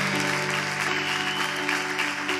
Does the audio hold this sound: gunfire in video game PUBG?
no